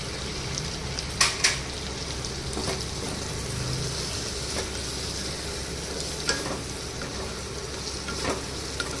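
Drumsticks and tomatoes frying in a pan for South Indian drumstick sambar, a steady close sizzle running throughout with occasional clinks and stirring scrapes.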